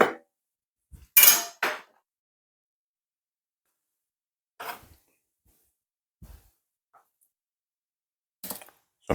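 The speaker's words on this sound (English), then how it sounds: "So these end part, you can just cut them off." A knife cutting the ends off a mango: a few sharp, isolated knocks and clicks against a cutting surface, separated by long stretches of silence.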